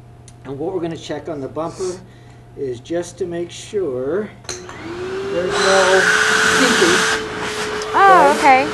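Someone talks briefly before a TriStar vacuum cleaner is plugged in and starts with a steady, loud whirring hum that holds for several seconds. His voice continues over the running motor.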